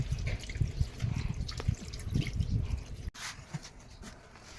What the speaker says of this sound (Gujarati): આ રીતની ફટકડી લઈ અને આ પાણીમાં આવી રીતને હલાવી નાખવાની થોડી વાર